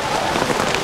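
Heavy rain pours on a mountain trail in Zhangjiajie, China, a dense, even hiss close to the camera with no break across the brief moment.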